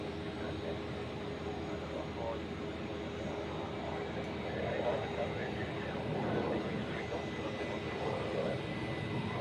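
An Airbus A320 taxis onto its parking stand at Zurich airport, a steady broad engine rumble and whine with a faint tonal hum, fairly distant and continuous, swelling slightly toward the end.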